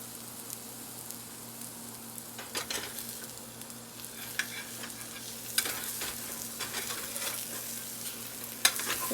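Eggs fry in a pan of leftover sausage grease, giving a steady close sizzle with occasional scrapes and light spatula taps and no talk.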